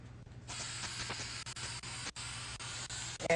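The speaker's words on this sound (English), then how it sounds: "this is spray adhesive" Spray adhesive hissing from an aerosol can during t-shirt screen printing, a steady close broadband spray of about three seconds with brief breaks, starting after a short quiet moment.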